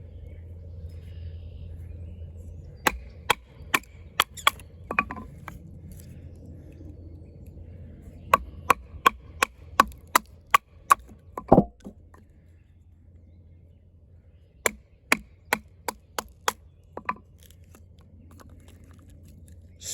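A 420HC steel drop point hunting knife splits wood into stove kindling in sharp, rapid bursts of crisp cracks and taps, separated by pauses over a low background hum.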